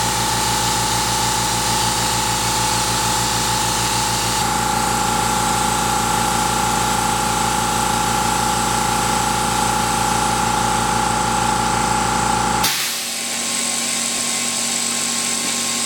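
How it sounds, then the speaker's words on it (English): A workshop air compressor in a CNC machining shop runs with a loud, steady droning hum, then cuts off abruptly near the end, leaving quieter room tone. "Compressor kicked in,"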